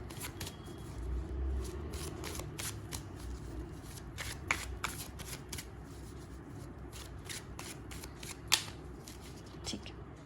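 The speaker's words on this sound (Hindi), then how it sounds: "सारे कार्ड उल्टे थे तो एक बार और मैं शफल करती हूँ।" Tarot cards are shuffled by hand close up, a quiet run of repeated crisp riffling and flicking bursts in an irregular rhythm with no talking.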